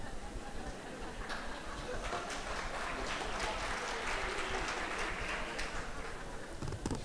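An audience claps at a Russell Tribunal on Palestine session in New York, a dense, sustained patter of many hands filling the whole stretch at an even level.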